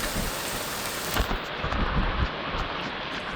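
Heavy rain pours down in Chembur, a constant loud wash of hiss with a few low rumbles and gusty thumps near the middle.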